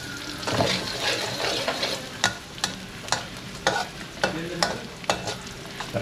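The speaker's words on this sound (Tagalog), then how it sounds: "higisa lang yung bawang" Garlic sautéing in a pan, a continuous sizzle broken by regular, sharp scrapes and taps of a spatula stirring it.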